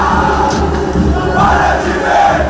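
Grêmio football fans at Salgado Filho airport, heard from inside the team bus: a loud, continuous crowd roar of chanting and cheering with low drum thumps underneath, steady throughout.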